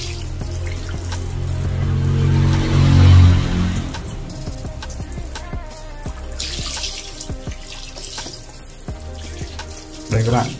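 Water from a handheld shower head rinses a stained sink, a splashing spray that swells then settles into softer trickling and dripping, with a person speaking over it and a brief louder gush at the end.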